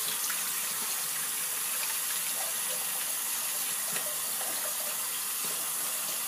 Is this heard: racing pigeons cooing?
no